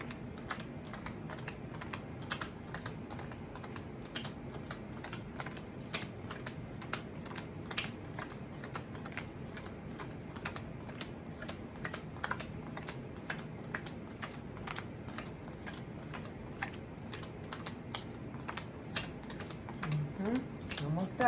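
Playing cards are dealt one at a time into suit piles of hearts, clubs, diamonds and spades, making a quiet, steady run of soft snapping clicks close by.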